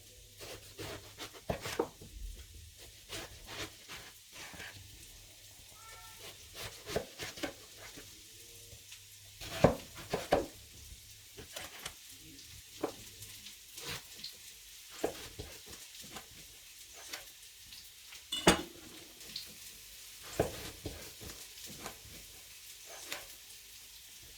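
Diced eggplant and zucchini sizzle quietly in a pan, a soft steady crackle broken by scattered scraping and clattering stirs and knocks that pop out above it.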